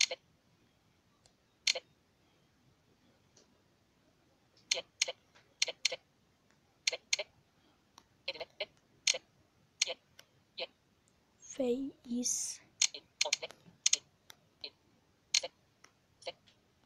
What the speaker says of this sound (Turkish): Bu arada artık ben de Google klavye ile yazıyorum